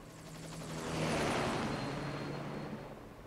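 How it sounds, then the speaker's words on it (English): A helicopter in Metal Gear Solid V: The Phantom Pain roars with a broad rushing rotor wash that swells to a peak midway and holds, heard alone at moderate distance. "Just get in the chopper."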